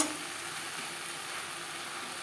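Onions frying with salt in a pan give a faint, steady sizzle with soft crackle and no talking.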